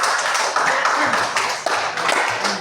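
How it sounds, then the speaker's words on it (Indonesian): A classroom claps for a student named Grace, a dense patter of many hands at steady volume, with some voices underneath. "Coba tepuk tangan untuk Grace"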